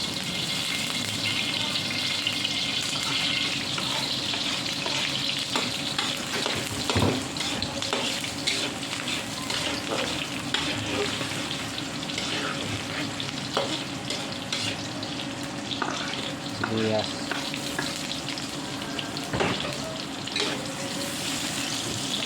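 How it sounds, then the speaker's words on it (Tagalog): Onion and garlic being sautéed in a pan for bistek with pork liempo, a steady loud sizzle with occasional stirring clatters and some running water or splashing mixed in, with no talk. "Magigisa na tayo mga idol ng sibuyas bawang."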